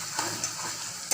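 Spices sautéing in a pan on low flame for pabda fish curry, a soft steady sizzle with a couple of brief scraping stirs.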